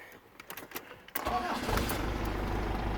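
A cold 2.5 turbodiesel engine in a Fiat Ducato-based Hymer camper cranks briefly, then catches and settles into a steady, rumbling diesel idle, close by and fairly loud.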